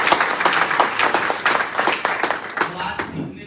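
Audience clapping at a meeting, a lively burst of applause with sharp separate claps that thins out and fades toward the end, with some voices mixed in.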